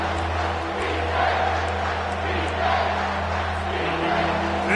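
Stadium crowd at a college football game against Washington State, a steady broad roar of cheering and whoops filling the whole stretch at moderate loudness, with faint commentary-like voices mixed underneath.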